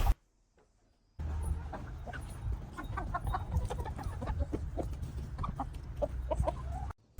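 Several chickens eating food scraps cluck and murmur continuously at close range, with scattered soft pecking and rustling; no talking.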